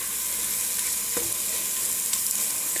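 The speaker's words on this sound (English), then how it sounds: "fry it a little bit here for 1 or 2 minutes in the oil, just kind of let it here to saute a little bit." Mole paste frying in oil in a pan over low heat: a steady, close sizzle with a few faint clicks of stirring, no talk.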